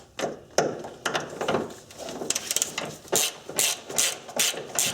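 A jack being worked under a Subaru engine, giving a close series of sharp mechanical clicks and ratcheting strokes in an uneven rhythm, each pump marked by a brief metallic burst, with no talk over it.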